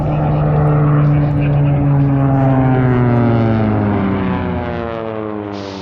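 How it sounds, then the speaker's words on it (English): A Corsair propeller warplane roars past on a display pass over Zell am See, its loud piston engine drone sweeping downward in pitch as it passes close by and then fades away. "I have the honor of displaying the Corsair during the Fat Ice Race at Zell am See today"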